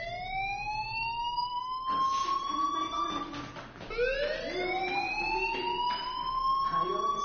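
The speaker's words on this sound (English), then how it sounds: "do you hear that fire alarm?" A fire alarm in the video game Life is Strange gives sweeping, rising electronic tones again and again, loud and close, while voices talk over it.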